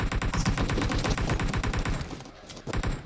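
Rapid automatic gunfire rattles loudly in PUBG Mobile, a steady string of close shots that pauses briefly near the end before firing resumes.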